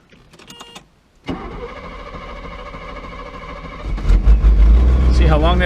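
A 1977 Mercedes 450SL cranks for several seconds before it starts, then runs at a rough, uneven idle with a miss. The engine is close and grows louder toward the end, and a few quiet sounds come just before the cranking begins.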